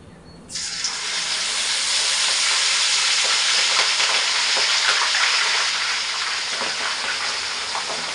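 Ground herbal paste for homemade hair oil hits hot oil and erupts into a loud, dense sizzle that starts abruptly after a quiet moment and stays strong and close, easing only slightly toward the end.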